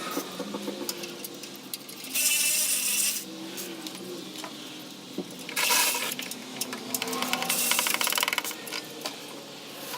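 Ratchet work loosening 10 mm bolts on a Porsche 996 exhaust heat shield in a shop: close metallic ratcheting and scraping, with a few louder hissy bursts along the way.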